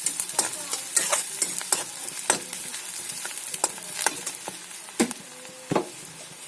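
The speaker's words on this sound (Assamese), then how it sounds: "ইয়াতে দিছোঁ মই পিঁয়াজ, দিছোঁ দুটা কেঁচা জলকীয়া ফালি দিছোঁ আৰু তেজপাতখিলা দি অকণমান মই লৰাই দিছোঁ" Onion, slit green chillies and a bay leaf frying in oil left over from frying eggs, a close continuous sizzle with brisk spatula stirring and scraping strokes against the pan.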